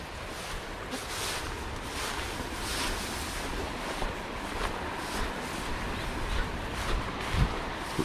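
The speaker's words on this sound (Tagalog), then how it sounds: "medyo maalon dito ah" Rough sea waves wash and churn at a fishing spot, a continuous roar of surf mixed with gusty wind buffeting the microphone, with occasional louder surges.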